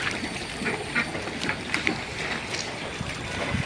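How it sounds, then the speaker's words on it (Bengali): Ducks splash into the water after being fed, with scattered quacks and watery splashing over steady background noise, fairly close. "নেমে গেছে আমাদের হাঁস পানিতে।"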